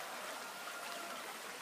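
A flowing creek streams steadily over its bed, a continuous broadband rush and trickle close by with no pauses, and no voices heard.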